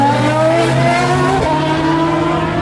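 An Aston Martin Valkyrie race car at full power roars past close by, a loud, high-revving engine note that rises and shifts pitch as it passes, with no talk.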